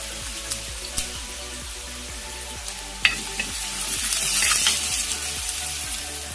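Ginger garlic paste and curry leaves sauté in a pan for a Kerala fish curry, giving a steady close sizzle broken by a few sharp clinks and scrapes of stirring.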